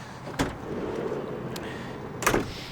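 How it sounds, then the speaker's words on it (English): The side loading door of a Volkswagen Transporter Kombi slides open, with a sharp latch clunk, a rolling slide and a second heavier thud near the end, close up and alone. "If we open up that side loading door"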